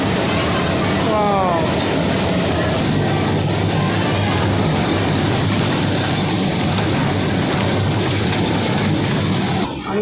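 Amusement park ride running at a fair in Kotbari, giving a loud, constant mechanical rumble and rattle with brief squealing tones early on, heard close up.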